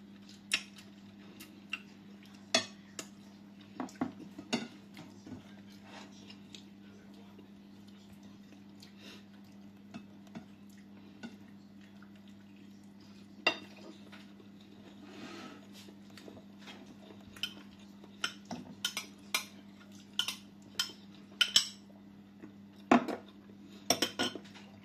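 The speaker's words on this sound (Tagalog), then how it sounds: "Kain lang ng kain." Cutlery clinks and taps on dishes during a mukbang meal, sparse sharp ticks scattered across a quiet room hum, some in quick clusters, with no talking.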